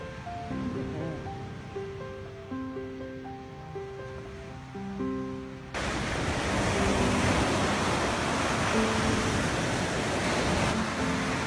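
Ocean surf washing onto a beach beside a lodge, a steady, loud broadband roar of waves that swells in and holds; the first half is partly masked by music tones.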